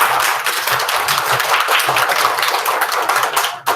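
A roomful of children at a school assembly claps steadily for a few seconds, a dense, busy patter of many hands that stops abruptly.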